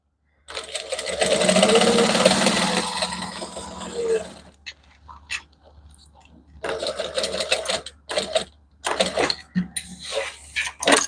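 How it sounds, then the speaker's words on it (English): A sewing machine stitches fabric in a long continuous whirring run, then falls silent and picks up in short bursts with pauses between them. "we're going to basically try and sew straight over to here without sewing your lining"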